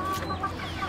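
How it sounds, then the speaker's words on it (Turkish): A small flock of Serama hens and roosters basking in the sun gives a quick run of close, soft clucks, with no voices. "Hem horozlarımız var hem tavuğumuz var, 2 tane"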